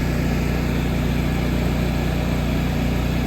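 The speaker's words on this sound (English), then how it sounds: "Trailblazer idled up." A Trailblazer engine-driven welder runs at a steady idle after it idles up, a loud, even engine drone with a constant low rhythmic throb and no voices.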